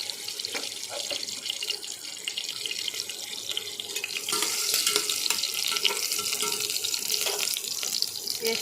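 Onions frying in oil in a pot for Bengali mashkalai dal, a continuous close hissing sizzle that grows louder and denser partway through, with no talking.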